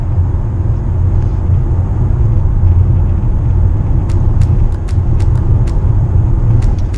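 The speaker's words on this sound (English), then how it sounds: "And driving full electric here on the 60 zone." Plug-in hybrid car driving in full electric mode through a 60 zone with the engine off, a steady low road and tyre rumble inside the cabin with a faint whine and a few light clicks.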